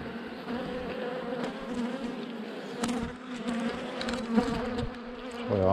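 Honeybees buzzing around a hive after an oxalic acid treatment: a dense, continuous drone of many insects close by, with occasional brief knocks and handling noises and no speech.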